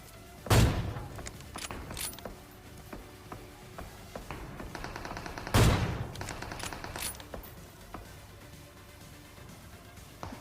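Two powerful AWM sniper rifle shots ring out in PUBG, each a sharp, loud crack spaced about five seconds apart, with faint mechanical bolt and gear clicks in between.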